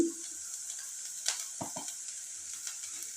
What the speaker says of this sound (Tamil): தனியா பொடி கரம் மசாலா பொடி சேர்த்து நல்லா வதக்கிக்கோங்க